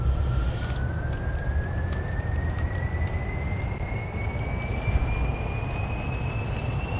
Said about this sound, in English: let me just throttle back up with the engines real fast